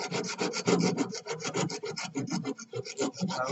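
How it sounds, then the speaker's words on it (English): Steady rhythmic rasping of a file or sandpaper rubbed back and forth across wood, close and continuous with no voices. "Nobody said sanding wasn't work. Sanding is hard work."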